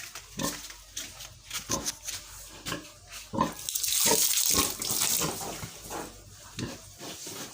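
Water pours and splashes into a sow's feed trough in bursts while the pig grunts and munches close by, with no voices.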